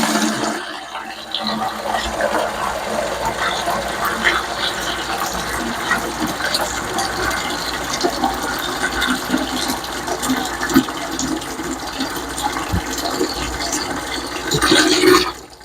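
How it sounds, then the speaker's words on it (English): Water gushes and splashes steadily into a bucket, partly filling it, for about fifteen seconds, a continuous rushing pour that swells slightly louder just before it stops. "So the first thing I want to do is fill up a bucket."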